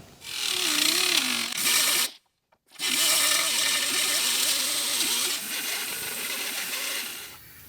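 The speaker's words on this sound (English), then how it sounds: "So now what we're going to do is grind that down, smooth everything out" A power grinder smooths down welds on the torque boxes of a '92 Ford Mustang Fox Body coupe, a loud wavering whine that cuts out for a moment and then starts up again, close up.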